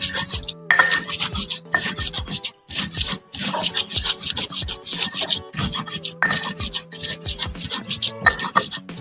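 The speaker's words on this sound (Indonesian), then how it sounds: "masak bumbunya digiling." Spice paste for cooking being ground by hand with a stone, steady rhythmic scraping and rubbing strokes close up with short pauses between bursts, no voice over it.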